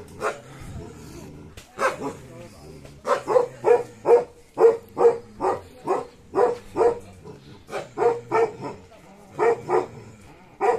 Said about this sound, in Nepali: यहाँ छ भोटे कुकुरहरू।